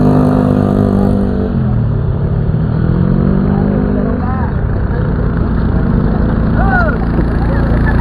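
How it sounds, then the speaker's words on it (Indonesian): Motorcycle engine straining and revving as it climbs a steep, rocky hill, a continuous loud rumble with shifting pitch, voices talking over it throughout. "rawan motor gak nanjak terus jatuh"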